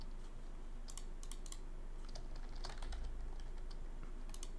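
Short bursts of keystrokes on a computer keyboard, quiet clicking taps in small clusters separated by pauses, in a room during laser cutting, 3D printing and coding work, with no talk.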